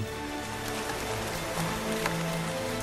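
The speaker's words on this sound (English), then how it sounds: "the rain washes it out of the atmosphere and onto the forests below" Steady rain falling on tropical rainforest, a dense continuous hiss of drops on foliage with a low background rumble and no speech.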